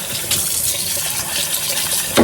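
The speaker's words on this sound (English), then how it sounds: "See how easy that's rinsing off?" Tap water runs steadily over juicer parts being rinsed in a sink, a continuous close splashing gush with no voices.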